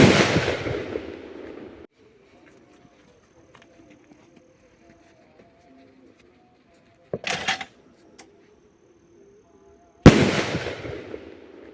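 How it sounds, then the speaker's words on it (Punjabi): A Diwali firecracker, launched from a large homemade slingshot, bursts with a loud, sharp bang that decays into crackling. A second blast follows after a quiet gap broken by a brief clatter. "ਇਹਦੇ ਨਾਲ ਆਪਾਂ ਦੀਵਾਲੀ ਵਾਲੇ ਪਟਾਕੇ ਤਾਂ ਫੋੜ ਕੇ ਦੇਖ ਲਿਆ"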